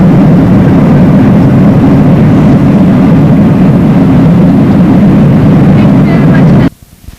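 Steady, loud drone of a passenger airplane cabin in flight over Canada, a broad low engine roar that holds evenly for nearly seven seconds before abruptly cutting off.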